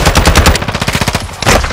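Rapid automatic gunfire in a first-person shooter video game: quick repeated shots in a fast steady rhythm, loud and close, a short pause, then another burst, with no talk over it.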